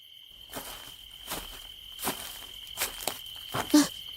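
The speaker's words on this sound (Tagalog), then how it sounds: "tanging tunog ng kuliglig ang maririnig naming lahat" Crickets chirp at night in a wooded, grassy setting: a steady high insect trill runs throughout, broken by soft rhythmic rustling pulses about every three-quarters of a second, with no voices.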